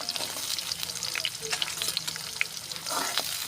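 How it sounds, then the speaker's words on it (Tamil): Shallots and whole spices sizzle and fry in hot oil while being stirred for a mushroom gravy, a steady close crackle with scraping stirs and no talk. "நல்லா சின்ன வெங்காயம் நல்லா வதங்குற வரைக்கும் கிளறி விட்டுறலாங்க"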